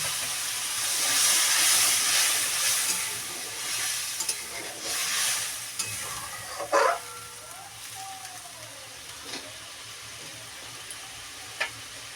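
Tilapia in mustard paste cooking in a pan after water is poured in, giving a steady close sizzle and simmering hiss with a few sharp clinks and stirring scrapes, no voices.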